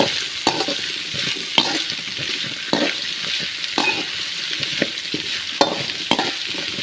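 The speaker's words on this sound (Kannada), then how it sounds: "ಚೆನ್ನಾಗಿ ಇದನ್ನು ಆಯಿಲಲ್ಲೇ ಹುರಿಬೇಕಾಗುತ್ತೆ ಈ ರೀತಿಯಾಗಿ" Bitter gourd pieces fry in hot oil with a steady sizzle, while a spoon scrapes and stirs the pan in repeated sharp strokes, close and fairly loud, with no voices.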